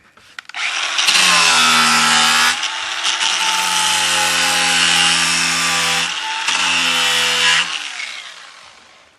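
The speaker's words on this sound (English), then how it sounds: "So I just choose to use the grinder." Angle grinder cutting an angled back cut into a wooden stair piece, loud and close, a harsh whining cut that dips in pitch under load, with a short break before a second burst and a spin-down.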